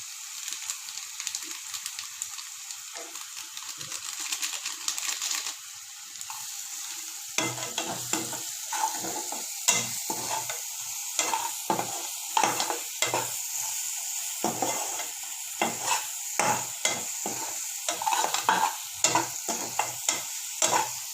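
Noodle masala sautéing in a hot pan: a steady hiss that swells midway, broken by frequent close scraping and clattering stirs that grow busier and louder toward the end.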